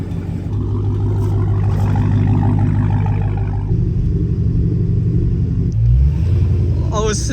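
A Dodge Hellcat with a freshly installed replacement engine rumbles loudly up close as it drives, a deep steady engine drone that shifts pitch partway through.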